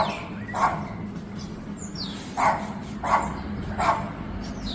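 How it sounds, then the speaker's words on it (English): A dog barks four times at a moderate distance near a hotel balcony in Albufeira, Portugal at sunset, sharp single woofs spaced about a second apart, with birds chirping faintly in between. "And the dog."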